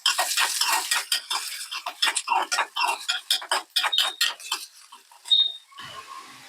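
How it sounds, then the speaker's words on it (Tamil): Onions sautéing in a pan for spicy eral thokku, stirred with a metal spoon in a quick run of close scraping and clinking strokes that stop near the end, leaving a faint sizzle. "ஸோ ஒரே பக்கம் அடி பிடிக்காம இருக்கிறதுக்காக கொஞ்சம் அப்பப்போ லேசா கிளறி விட்டு வதக்கிக்கலாம்"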